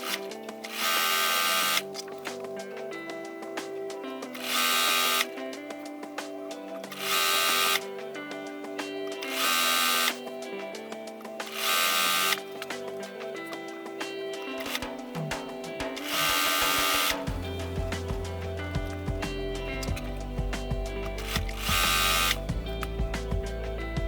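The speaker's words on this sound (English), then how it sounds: "I will sew it like this, all of them in kind of those 3 sections together, 3 strips together needs to be sewn as well." A sewing machine joins scrappy quilt fabric strips with a quarter-inch seam, in repeated loud whirring bursts of a few seconds each separated by short pauses, close by, with music playing underneath.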